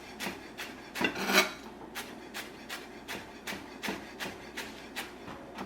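A knife slices basil into really thin strips on a cutting board, giving a quiet, evenly spaced series of short chopping taps, about one every half second, close up with no speech.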